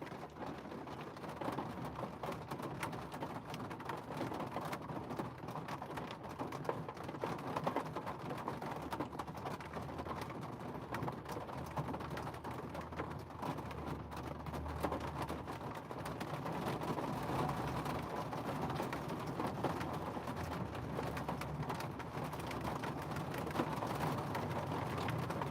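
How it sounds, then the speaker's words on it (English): Steady rain falls throughout, a dense, even wash of drops with no voices and no breaks. "It is raining here"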